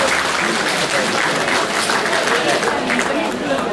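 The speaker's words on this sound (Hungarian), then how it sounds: "Tapsoljuk meg!" An audience at a Sydney community gathering breaks into sustained applause, a dense, even wash of clapping that holds loud for the whole stretch.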